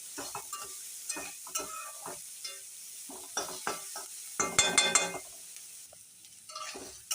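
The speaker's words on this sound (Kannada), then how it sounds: "ಈರುಳ್ಳಿ ಗೋಲ್ಡನ್ ಫ್ರೈ ಆಗಬೇಕು" Onions fry toward golden in a pan while being stirred: soft sizzling under repeated scraping strokes, with a louder flurry of crackle near the middle.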